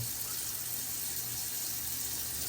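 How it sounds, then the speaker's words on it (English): Cold tap water runs steadily from a faucet to rinse a freshly dyed Rubik's cube piece, a constant close hiss of flowing water filling the whole moment with no voices. "You can take the part out and rinse it under some cold water instead"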